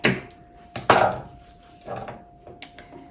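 Scissors snip through the folded paper of a paper star in a few crisp, close cuts, two sharper strokes early on and softer clicks after, with no talking.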